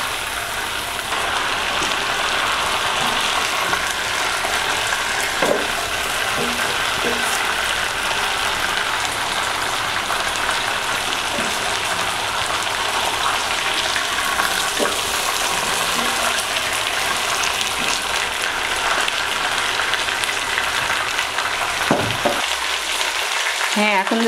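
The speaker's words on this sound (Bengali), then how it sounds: "এখন আমি নেড়ে চেড়ে সুন্দরভাবে একটা কালার আসা পর্যন্ত অপেক্ষা করব।" Spiced chicken sizzles steadily in a pan on a stovetop for grill-style chicken, with occasional stirring scrapes and clicks over a constant, fairly loud frying hiss and no talk.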